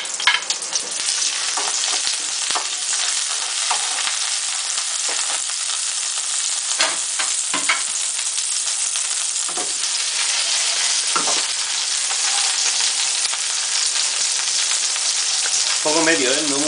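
Garlic frying in olive oil in a pan on medium heat for hake in green sauce, a steady close sizzle with occasional stirring clinks throughout.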